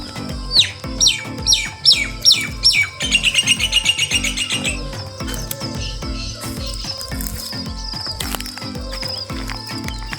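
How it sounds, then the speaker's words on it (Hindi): Birds in a village with cotton fields chirp and call near and clear, giving quick repeated tweets and a rapid trill, with insect-like buzzing in the background. "देखिए कितना सा प्यारे प्यारे परिंदों की आवाज़ आ रही है।"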